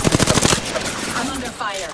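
Rapid automatic gunfire from enemies in a video game battle, a fast stuttering burst up close, then a noisier, rougher stretch of combat sound.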